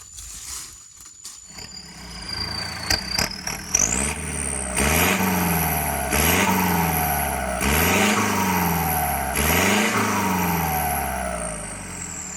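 A Kubota L5018 tractor engine fitted with a straight exhaust pipe is revved hard several times. The rising and falling roars are loud and close, with a harsh rasp from the open pipe and no talking.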